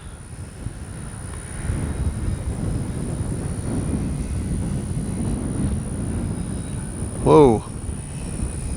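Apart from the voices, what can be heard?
Dynam Grand Cruise RC airplane landing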